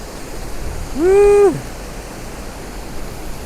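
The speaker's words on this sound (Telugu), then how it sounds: "నాకు ఆల్రెడీ వాటర్ ఫాల్ సౌండ్ అయితే వినిపిస్తుంది" Rushing water at Pochara waterfall forms a steady, broad roar from start to finish, heard from a distance, with a brief tonal whistle-like call rising over it near the start.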